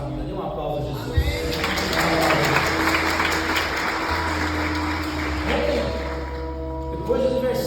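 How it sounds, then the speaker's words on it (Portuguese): Congregation in a church applauding, a broad, sustained wash of clapping that swells and continues for several seconds over a low steady tone and musical background, with some voices mixed in. "Dê um aplauso a Jesus."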